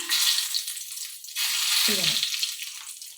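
Whole spices, including cardamom, sputter and sizzle in hot coconut oil in a pan, a bright crackling hiss that swells and continues steadily, with a voice briefly speaking partway through.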